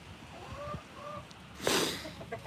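Silver-laced Wyandotte chickens in a farmyard make a few soft, quiet clucks and short murmurs, with one brief sharper squawk near the end.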